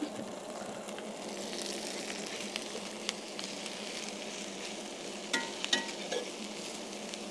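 Onions sizzle steadily as they caramelise on a plate over medium heat on a Napoleon Pro-22 charcoal barbecue, a continuous soft frying hiss with a few faint crackles and stirring clicks.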